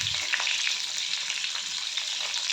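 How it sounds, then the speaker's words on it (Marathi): Stuffed bitter gourd (bharva karela) frying in oil, a dense, steady hiss and crackle of sizzling, close and unbroken, with no voices. "कारल्यांची एक बाजू चांगल्या प्रकारे तेलामध्ये शिजवून घ्यायची, परतून घ्यायची"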